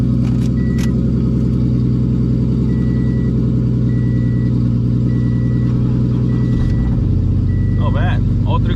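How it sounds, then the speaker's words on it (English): Three cars idling together, including a stock Scion FRS, make a steady, loud low rumble with layered engine tones. The pitch shifts slightly as one engine changes speed toward the end. "All three cars are on now."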